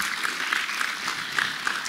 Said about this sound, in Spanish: Así que dense un aplauso a ustedes mismos, al Señor por sobre todo, porque es glorioso